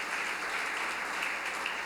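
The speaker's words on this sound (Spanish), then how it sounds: "Démosle un aplauso fuerte al Señor." A church congregation claps loudly and steadily throughout, a dense continuous wash of applause filling the room.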